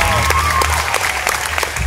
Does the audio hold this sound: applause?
yes